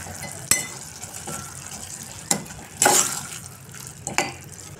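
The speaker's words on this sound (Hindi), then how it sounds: "अब इसको ज़्यादा सा पानी डाल के तो पकाना पड़ेगा" Water poured into a home-cooked pot of softened carrots and washed porridge, with scattered clinks and a brief splashy pour near the middle, close and moderately loud, no talking.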